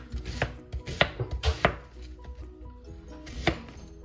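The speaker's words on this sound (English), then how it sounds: "Just roughly chop this." A knife roughly chopping red onion on a cutting board in an irregular run of sharp thunks, several quick cuts in a cluster then a pause and a last chop, close and fairly quiet.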